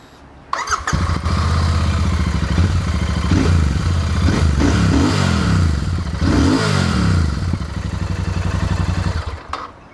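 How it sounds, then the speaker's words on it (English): A Royal Enfield Super Meteor 650 parallel-twin motorcycle fires up and its exhaust rumbles loudly up close, with several rising and falling throttle blips over a steady idle before cutting off. "Here is the exhaust note of the Super Meteor."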